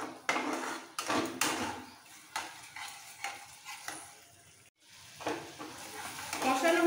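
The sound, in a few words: sautéing spice paste for capsicum paneer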